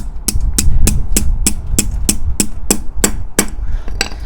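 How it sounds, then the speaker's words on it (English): Steady, evenly spaced hammer blows bending a metal door hinge pin, about a dozen sharp strikes in a row, close and loud. "I'm going to take the hammer and I'm going to bend this pin"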